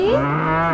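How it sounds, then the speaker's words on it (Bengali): A single cow lets out a short, loud, close moo, with a smooth rising-then-steady lowing tone and no other sound behind it. "গরু বাছুর"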